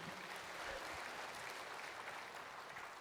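A church congregation claps steadily at low volume, a continuous wash of applause with no voices breaking through.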